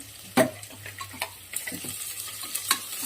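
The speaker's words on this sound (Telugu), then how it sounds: "బ్రౌన్ కలర్ వచ్చేదాకా వేయించుకోవాలి." Goat head meat frying in oil with ginger garlic paste until brown, a soft steady sizzle under occasional sharp stirring clacks of a utensil against the pan.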